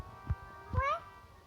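A cartoon cat from Tom and Jerry gives two meows, a short one and then a longer rising-falling cry, clear and close with quiet gaps between.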